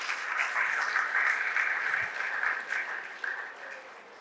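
Sustained audience applause welcoming a moderator at a business event, a steady wash of many hands clapping that holds for several seconds before slowly thinning toward the end.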